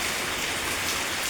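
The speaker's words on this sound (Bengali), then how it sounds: "বৃষ্টি হচ্ছে" Heavy rain falls steadily, a dense, even hiss of drops striking surfaces, close and unbroken for the whole brief moment.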